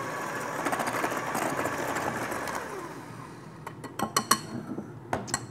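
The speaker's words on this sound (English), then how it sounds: "we are literally going to take a hand mixer and beat it at a low temperature for about 30 seconds" A hand mixer beats ice cream cake batter at low speed, a steady buzzing whir for the first few seconds that fades out, followed by several sharp clinks of the beaters against the bowl.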